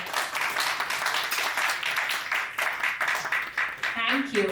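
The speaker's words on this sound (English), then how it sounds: "Once again, a round of applause for Dr. V.P. Nair." Applause from a seated audience at a book launch for a cardiologist's memoir, moderately loud clapping sustained throughout, with a voice speaking over it near the end.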